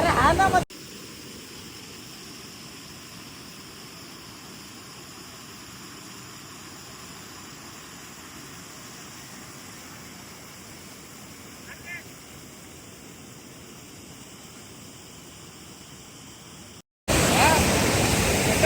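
Steady, loud rushing roar of Tavli waterfall near Bohonoli village, Ambernath, filling nearly the whole stretch as a continuous broadband wash of falling water, close by, with a brief cut and louder burst at the end.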